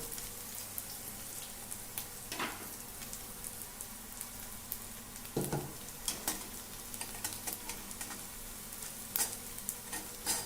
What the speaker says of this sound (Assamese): দাইলখিনি দিয়াৰ পিছত এনেকৈ ভালকৈ লৰাই দিয়ে